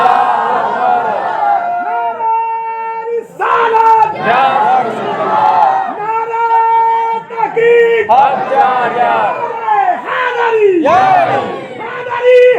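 A large crowd shouts a religious slogan in unison at a gathering, loud repeated surging calls in waves with a lead voice calling between them.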